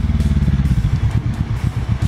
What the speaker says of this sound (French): c'est pas comme si j'avais pas une moto qui faisait du bruit